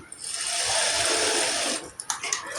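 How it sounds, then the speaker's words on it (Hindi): Sewing machine running a steady stitch along the lining edge of an inner-lined kurti, a continuous close mechanical whir for about two seconds before stopping into a few soft clicks and handling sounds. "अब यहाँ पर एक सिलाई लगा लेंगे अस्तर की साइड में, ऐसे बिल्कुल किनारे पे"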